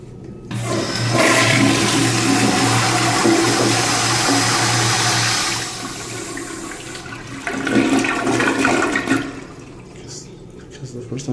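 A toilet with an off-center siphon jet flushes close up, starting with a loud rushing roar of water and then easing into a gurgling refill with a second surge near the end.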